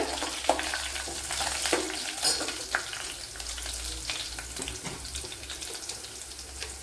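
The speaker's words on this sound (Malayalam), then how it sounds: "അതിലേക്ക് ഒരു പച്ചമുളക് ഇട്ട് കൊടുക്കുക." Green chilli and garlic cloves fry in a pan for a Kerala-style pineapple pulissery, giving a steady low sizzle with a few light clicks and stirring touches, close by and without speech.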